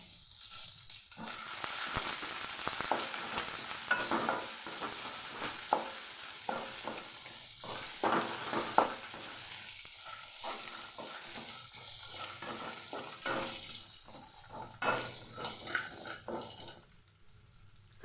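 Onions and dried red chillies frying in a pan for pulihora, a quiet continuous sizzle with frequent scraping stirs of a ladle, fairly close but low in level.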